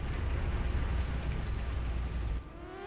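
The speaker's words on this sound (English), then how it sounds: "Oh no! Accidental explosion on the base." An explosion in the game Front Mission 3 booms loud and sustained on a base, a rumbling blast that cuts off abruptly near the end, leaving a quieter mechanical tail.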